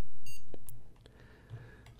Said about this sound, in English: I don't know how I'm going to deal with the beeps here.